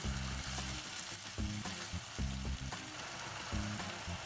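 Gobhi aloo masala for dhaba-style gobhi aloo adraki frying in a pan, a steady close sizzle with a few brief stirring scrapes and no voices.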